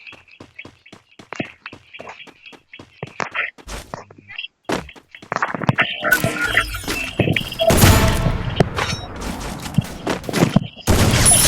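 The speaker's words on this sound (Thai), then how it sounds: "ยิงกันอยู่" Gunfire from the Free Fire video game rings out in sharp, rapid bursts, with scattered single shots first and then denser, louder volleys and thuds later on.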